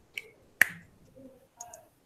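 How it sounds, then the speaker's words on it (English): Sharp hand claps ring out in a quiet room, a faint one first and then a crisp, louder clap, followed by a softer pair near the end, each a short isolated snap with no talking. "Double claps."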